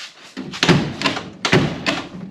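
The driver's side door of a classic car is pushed shut twice in close succession, each time a solid, close thump with a short metallic rattle.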